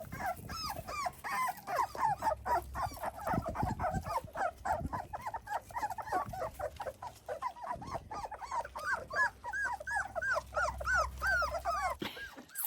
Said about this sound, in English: You can probably hear the puppies